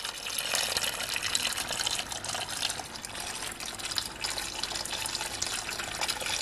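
Coolant-contaminated fluid pouring from a car engine with a suspected head gasket failure into a bucket, a steady, close hissing splash of liquid that runs continuously without a break.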